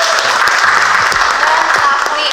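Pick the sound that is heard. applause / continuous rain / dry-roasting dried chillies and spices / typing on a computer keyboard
applause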